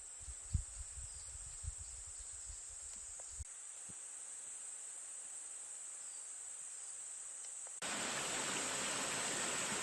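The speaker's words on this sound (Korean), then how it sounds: "브릴폭포에서 내려오는 물입니다" Steady rushing of a mountain stream flowing down from Bulil Falls on Jirisan fills the clip, with a faint high insect-like hiss and a few soft thumps early on; no voices.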